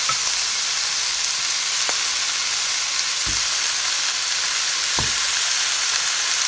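Onions fry in a pan with a steady, dense sizzle that holds for several seconds, with a few soft clinks or stirs breaking through near the middle and end.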